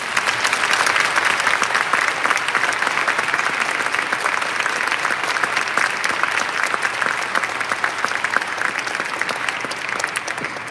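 An audience at a live event in Zagreb applauds loudly and continuously, dense clapping that stays steady for several seconds before easing slightly near the end.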